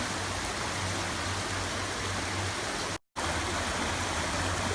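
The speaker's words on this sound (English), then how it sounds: "I just love these mountain streams and the creeks flowing through them" A mountain stream in the Great Smoky Mountains rushes steadily with a loud, broadband wash of flowing water, continuous apart from a brief cut to silence partway through.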